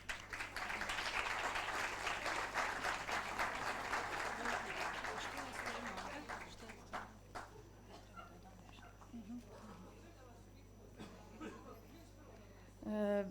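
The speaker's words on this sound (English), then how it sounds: "Let's welcome her with the applause." Audience applause welcoming a speaker to the stage at an anniversary event for an autism association, loud and steady for about six seconds, then fading into scattered claps and low room murmur.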